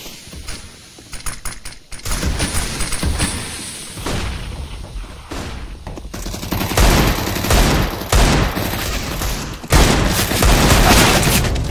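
Dense, loud CS:GO gunfire with repeated Desert Eagle shots and booms, and mechanical clatter throughout, continuing without pause.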